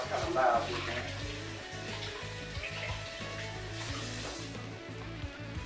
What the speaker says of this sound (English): I know this water's going to sound kind of loud here, man.